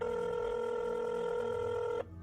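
Telephone ringing on a call to a sheriff's department, a steady loud electronic ring tone that holds for about two seconds and then cuts off abruptly, leaving a faint hum.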